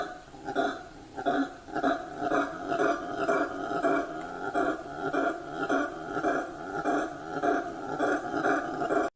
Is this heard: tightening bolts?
no